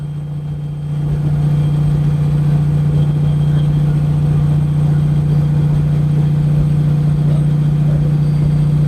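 A semi truck engine running steadily at 1,800 RPM while climbing at high elevation, heard from inside the cab as a loud, continuous droning hum that swells slightly after the first second and then holds even, with no talk.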